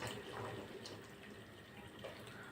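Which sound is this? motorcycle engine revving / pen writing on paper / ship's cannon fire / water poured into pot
water poured into pot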